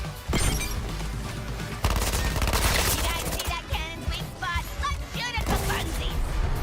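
Rapid bursts of video game gunfire and heavy impacts fill the scene, with shattering hits and crashes, loud and busy, while a voice talks over parts of it.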